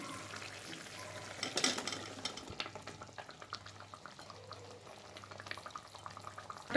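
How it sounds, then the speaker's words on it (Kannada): Chopped ivy gourd (tondekai) tumbles into a hot pan for palya gravy, a brief clattering burst followed by steady bubbling and soft stirring scrapes that carry on close by, with a low hum underneath. "ಇದು ಈಗ ನಾನು ತೊಂಡೆಕಾಯಿ ಹೆಚ್ಕೊಂಡಿದ್ದು ಆ್ಯಡ್ ಮಾಡ್ತಾಯಿದ್ದೀನಿ"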